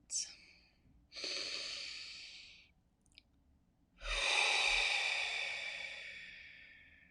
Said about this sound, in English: take a nice deep breath in and out